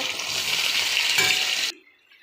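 Fish curry with pointed gourd, potato and drumstick sizzling loudly in a pan, a steady close frying hiss that cuts off abruptly near the end.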